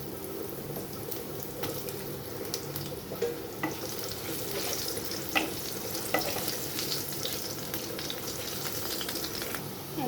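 Potato pieces sizzle in hot oil with five-spice seeds in a pan, a steady crackling hiss with occasional sharper pops and stirring scrapes, close and continuous with no talking.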